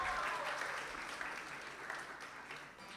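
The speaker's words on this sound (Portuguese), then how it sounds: "Palmas para ela, vai gente" A church congregation claps for a singer invited up during worship, a short burst of moderately faint applause that thins out over a few seconds.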